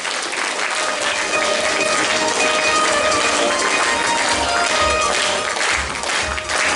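Loud, sustained applause from a concert hall audience at an anniversary concert of a pop song studio, dense steady clapping filling the whole stretch without a break.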